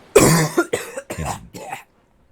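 A person coughs in a burst of four or five harsh, close coughs, the first the loudest, then fading into silence.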